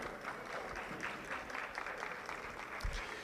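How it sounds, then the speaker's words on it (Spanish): Faint applause from the audience at a university forum in Cayey for the panelists, a soft and distant patter of clapping with a few low thumps, quiet throughout. "Un aplauso otra vez para nuestros panelistas"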